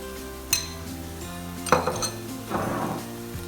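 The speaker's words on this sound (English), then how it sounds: "We keep stirring the stew on fire." Nigerian pepper sauce is stirred in a pot over the fire, with a few sharp metallic clinks of a spoon against the pot between quieter scraping.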